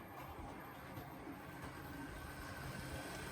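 A cheap blue box HO-scale model diesel locomotive pulls log cars along a model railway track, giving a steady, noisy mechanical whir and rolling rumble, close and continuous with no talking.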